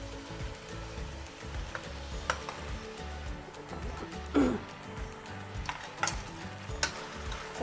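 Chopped capsicum, cauliflower and peas sizzle and hiss in a pan as they are stirred, with scraping and clinking of the spoon rising over the steady frying noise.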